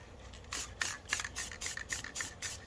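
A spray paint can hissing as paint is sprayed onto a sky painting to build up clouds, a series of close, short bursts in quick succession, each a bright airy hiss, with no talking.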